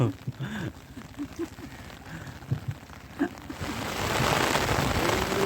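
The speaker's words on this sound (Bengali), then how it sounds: "এখন কিন্তু আবার প্রচণ্ড বৃষ্টি হচ্ছে" Heavy rain falls outdoors in the Sundarbans. Voices talk over a softer patter at first, then a dense, loud hiss of downpour surges in and holds steady.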